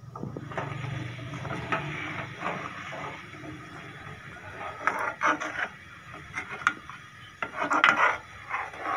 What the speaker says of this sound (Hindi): चम्मच इसमें हिलाते जाएं और इसमें आहिस्ता आहिस्ता से गाढ़ा बनाना स्टार्ट हो जाएगा।